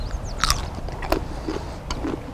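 Raw kohlrabi is bitten and chewed close up, giving several sharp, crisp crunches spaced irregularly, with no talking over them.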